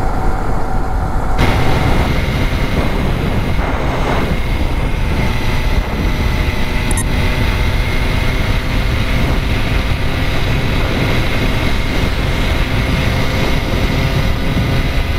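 A Yamaha R15 V3 motorcycle cruising at steady highway speed after 18,500 km gives a loud, continuous engine drone blended with heavy wind rush, unbroken and even throughout with no speech.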